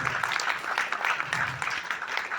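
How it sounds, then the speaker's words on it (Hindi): Dense, loud audience applause fills a hotel event stage in Delhi, many hands clapping together in a continuous wash with a faint voice mixed underneath. "एक बार जोरदार तालियां आरंभ के लिए।"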